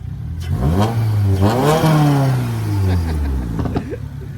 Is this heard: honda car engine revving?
yes